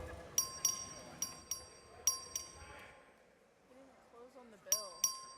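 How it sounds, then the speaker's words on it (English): A legislative chamber's voting bell dings brightly in quick pairs, several strikes spaced out with ringing tones, while a voice speaks softly in between during a recorded final-passage vote. "Clerk, ring the bell."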